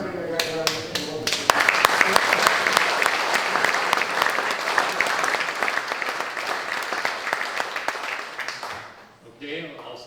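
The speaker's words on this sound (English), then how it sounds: "I think we owe these people a great round of applause for everything they got done in the local." Applause bursts out from a crowd at a political county corn feed dinner, a dense patter of many hands clapping close by for several seconds before tapering off, with talk briefly heard around it.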